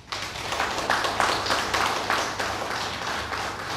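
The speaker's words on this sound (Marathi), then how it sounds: "ताईंसाठी जोरदार टाळ्या." A seated audience at a Dhamma discourse claps after the talk, a brisk burst of many hands that rises quickly, holds, then thins slightly toward the end.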